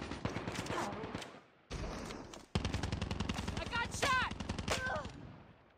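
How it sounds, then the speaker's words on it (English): Rapid automatic gunfire from a Call of Duty Mobile match crackles in dense bursts, breaking off briefly before heavy volleys resume alongside scattered single shots, with a person talking over the action. "there's a lot of shots happening right now"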